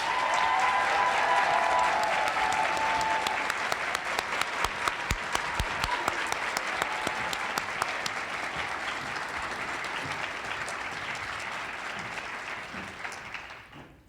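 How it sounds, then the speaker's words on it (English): Sustained audience applause at a debate awards ceremony, a dense steady clapping that fills the room from start to finish and fades only at the very end. "Please applaud."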